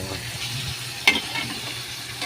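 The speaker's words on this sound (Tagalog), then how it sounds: "Ito, nagigisa-gisa na ako. Pinagsama-sama ko na lahat pagka ko ng bawang at sibuyas." Garlic and onion sautéing in a pan with carrot, a soft continuous sizzle broken by a sharp clack of a utensil stirring, close and alone.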